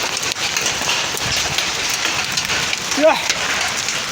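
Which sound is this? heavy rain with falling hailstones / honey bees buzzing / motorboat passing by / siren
heavy rain with falling hailstones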